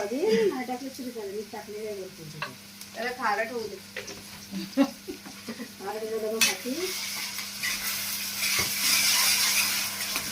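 Egg masala sizzles and is stirred in a pan while eggs are added, the scraping and frying faint beneath steady talk, then a louder hissing sizzle takes over for the last few seconds.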